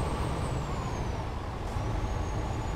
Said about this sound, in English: This truck hasn't really got a great sound to it. It's a quite a boring sounding truck.